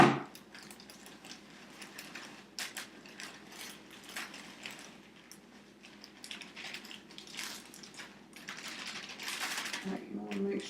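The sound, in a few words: pouring brownie mix into a bowl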